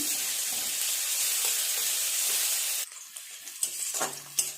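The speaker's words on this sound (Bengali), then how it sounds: "পেঁয়াজটা ভালো করে ভেজে নরম করে নেব।" Onions frying in oil for a Bengali shol fish kalia, a steady loud sizzle for about three seconds that then drops to softer, broken crackles with a few stirring clatters in the pan.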